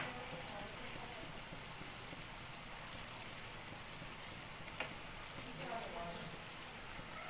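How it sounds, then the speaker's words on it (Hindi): Finely chopped onions fry in a pan for biryani in a home kitchen, a faint, steady crackling sizzle with no clear breaks. "तो अभी इसको मैं फ्राई कर रही हूँ।"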